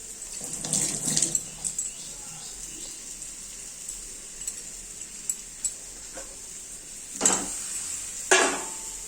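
Water pours into a pan of frying eggs, a gushing splash that starts briefly, then returns in louder rushes near the end over a low kitchen sizzle, with occasional clinks of utensils and no talking.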